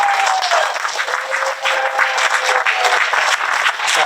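An audience claps at a school grand opening ceremony for an elementary school, with steady dense applause that holds fairly loud for several seconds and dips briefly midway.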